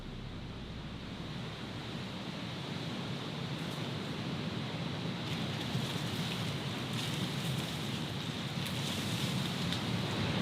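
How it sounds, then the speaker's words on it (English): Steady rain falling at night in a game built with Godot, a constant dense hiss of drops with a faint low rumble, evenly loud throughout and heard with no voices. "The rain has a way of coming in at the worst times, right in the middle of the night."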